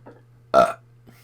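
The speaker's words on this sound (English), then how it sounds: "a man burp right there" A man lets out a single loud, short burp close to the microphone, with faint low sounds just before and after.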